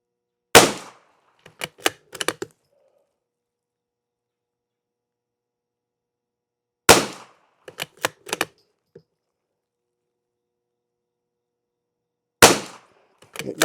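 Three widely spaced volleys of sharp rifle shots firing CCI standard velocity rimfire rounds lubed with WD-40 silicone spray, each a quick cluster of cracks followed by silence.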